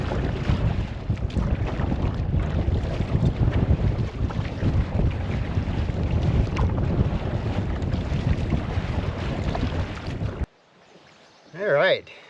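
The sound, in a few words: paddling a canoe on a lake into the wind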